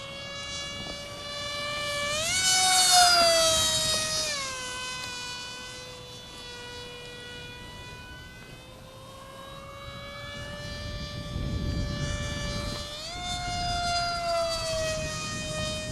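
A HobbyKing RadJet RC jet with an upgraded 6x4 sport prop on a 3-cell battery whines steadily overhead, its high buzzing pitch rising and falling as it passes and cruises, continuous and moderately loud.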